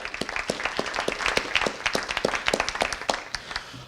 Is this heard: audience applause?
yes